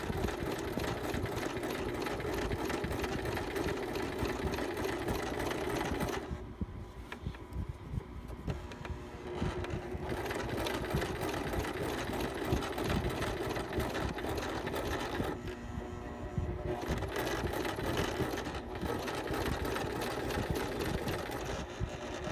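A sewing machine runs steadily, stitching a long seam on fabric for a custom window treatment, its motor whirring continuously with two brief slowdowns, near and alone without talk.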